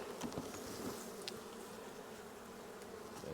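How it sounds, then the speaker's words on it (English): A dense, steady drone of many honey bees buzzing close around a hive, continuous and without any talking. "Let them bees get back up where they need to be"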